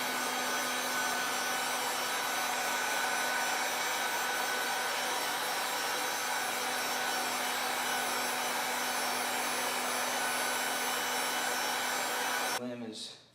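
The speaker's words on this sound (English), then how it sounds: "If you have a heat gun, you want to make sure you use the small coupling attachment so you don't accidentally heat the back side of the bow." A heat gun fitted with a small coupling attachment warming a PVC bow limb, a steady whooshing blower hum held at constant loudness for about 12 seconds, then cutting off abruptly with a brief clatter at the end.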